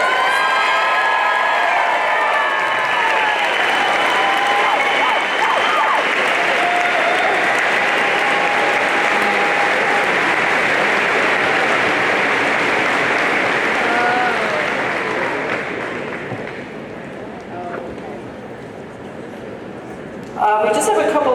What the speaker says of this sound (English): So let's give a big round of applause for our graduates.